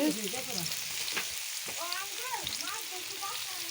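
Onions frying in hot oil on a clay stove for boal fish roe bhuna, a steady close sizzle with occasional scraping stirs and a voice speaking underneath.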